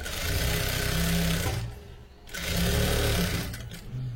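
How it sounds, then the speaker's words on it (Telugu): Steady whirring of a sewing machine stitching a blouse sleeve on the lining side, running continuously with a brief slowdown midway before picking back up. "సెంటర్కి చేసుకొని లైనింగ్ వైపు కుడుతున్నాను నేను."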